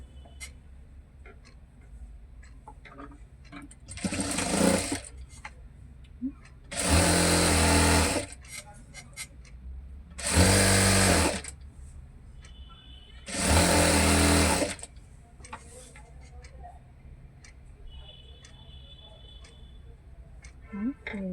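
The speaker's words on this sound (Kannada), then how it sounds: "ಇನ್ನು ಈ ಕಡೆನೂ ಸೇಮ್ ಅದೇ ರೀತಿಯೇ ಸ್ಟಿಚ್ ಮಾಡ್ಕೋಬೇಕು." A sewing machine stitches the side slit of a readymade top in four loud bursts of rapid whirring, each lasting a couple of seconds, with quiet pauses and faint handling noises between them.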